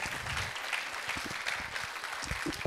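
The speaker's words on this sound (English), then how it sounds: "A big round of applause for them." A preschool audience at a Maha Shivaratri event claps in a dense, steady burst of applause that keeps an even level throughout the short stretch.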